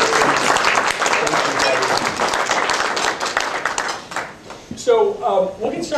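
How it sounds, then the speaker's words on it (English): A dinner audience at a financial firm's evening event claps in a dense burst of applause that fades out, followed by a person speaking close by. "I know you all join me in applauding for this wonderful dinner they set up for"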